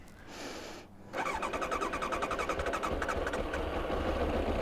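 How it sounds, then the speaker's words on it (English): Kawasaki ZX-9R, an old carburetted motorcycle, cranking briefly then catching and settling into a loud, close, rapidly pulsing idle. "Old bikes, it take a sec to start up"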